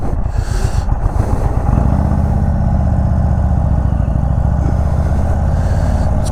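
A 2021 Indian Chief Bobber 116 Stage 2 V-twin motorcycle running, a loud close low throbbing engine note that deepens and steadies into a rumbling pulse after a moment.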